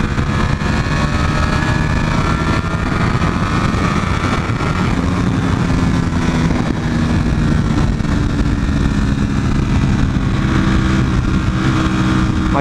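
A V4 motorcycle engine rumbles steadily at its slowest riding speed on a road, a continuous loud drone with wind noise throughout and no speech.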